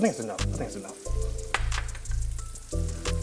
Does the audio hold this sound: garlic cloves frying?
yes